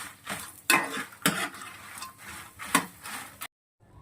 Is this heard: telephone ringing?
no